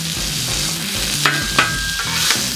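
Ribeye for a pretzel cheesesteak sizzles steadily on a Blackstone griddle, a loud, close frying hiss broken by a few scraping spatula strokes, with no talking.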